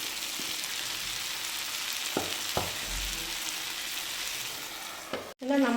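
Masala-coated fish frying in a pan, a continuous close hiss and sizzle with a few soft utensil taps and a brief clatter near the end as the pieces are turned.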